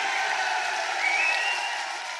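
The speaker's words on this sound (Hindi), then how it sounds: "ताली बजाइए, और जोर से ताली बजाइए।" Crowd applause at a political rally in India, a steady wash of many hands clapping, moderately loud and distant-sounding, holding evenly with no voices over it.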